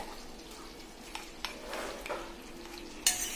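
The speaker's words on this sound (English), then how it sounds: "That sound the butter is making. That's what you want your butter to do. It's just melted, then it makes that sound." Freshly melted butter sizzles faintly in a pan with minced garlic, giving a soft, steady crackle with a few small pops and a light clink of a utensil near the end.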